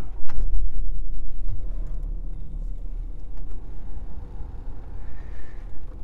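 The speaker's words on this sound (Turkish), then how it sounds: "Start engine stop diyoruz." A Land Rover Defender 90 with a 3.0 diesel engine starts and settles into a low, steady idle, heard close up from inside the vehicle with no talking.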